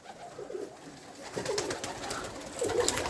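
Pigeons coo softly at a distance amid light background noise, several low murmuring calls overlapping with faint flutters, while moulting.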